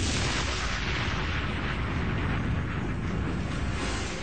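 A simulated half-kiloton nuclear explosion in a harbor, from a Cold War naval test with ships anchored near shore, comes through as a loud, sustained roaring blast with steady rumbling noise throughout and no voices.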